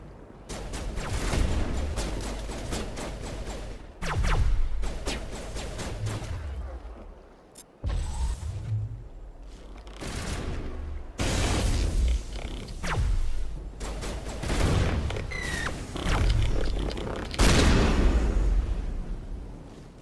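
Heavy crossfire in Mass Effect Legendary Edition: loud, repeated gunshots and explosive thuds burst in clusters throughout, with dense layered impacts and brief lulls, a sustained chaotic firefight against Geth.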